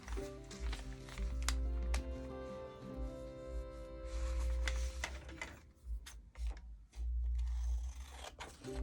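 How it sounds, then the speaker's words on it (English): Scissors snip along the edges of a sheet of paper, a run of sharp, close clicks and crunches that repeat unevenly over a steady tonal hum in the room. "Let's cut the edges off of our paper."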